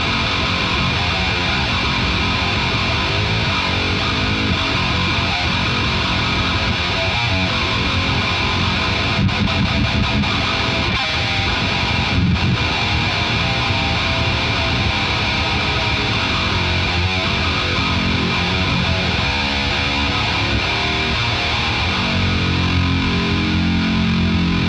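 Seven-string electric guitar played through heavy distortion, a dense, sustained wall of crunchy riffing that stays loud and continuous throughout, with no voices over it.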